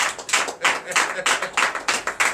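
Congregation clapping for Jesus during a night deliverance and prophecy service in a church in Comè, Benin: loud, rhythmic claps in regular beats, close and steady, with voices mixed underneath.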